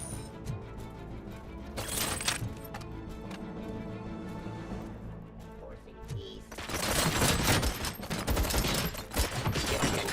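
Bursts of heavy gunfire from a gun in RoboCop: Rogue City, a short volley near the start and then a loud, sustained fusillade over the final few seconds, with game sounds beneath.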